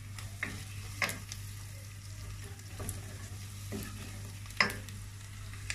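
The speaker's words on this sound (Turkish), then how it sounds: "Hepsini iyice soteleyeceğim." Food sizzling steadily in butter in a hot pan, with occasional scraping and clattering as it is stirred, close by.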